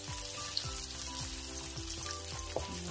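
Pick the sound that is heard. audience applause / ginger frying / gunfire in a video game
ginger frying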